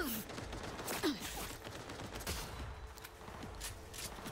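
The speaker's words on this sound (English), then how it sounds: "when a person walks away, that means you stop shooting at them" Dense, sustained gunfire from a gunfight in the video game Cyberpunk 2077, with rapid overlapping bursts and shots running continuously at a steady, fairly loud level, with no clear talk.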